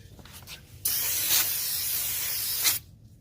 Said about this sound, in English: I just use some brake spray.